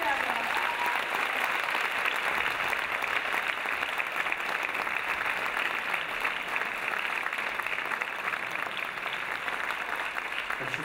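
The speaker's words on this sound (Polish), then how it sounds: "Wielkie brawa." A concert audience in Warsaw gives a long, even round of applause. The clapping stays steady and fairly soft for about eleven seconds, with no talk over it.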